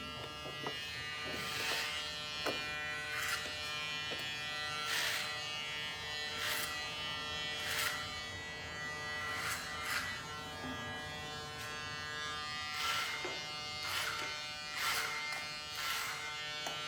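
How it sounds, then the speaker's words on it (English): Electric hair clippers cutting a man's short layered hair, a constant close buzzing with repeated louder bursts as the blades pass through hair, no talking. "I'll be then doing a backhand clipper motion"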